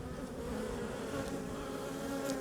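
Honeybees swarm around an opened hive during a colony split, their continuous droning buzz close and even, with no voices over it.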